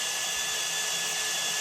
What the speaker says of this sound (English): So Victor on the drill being very precise.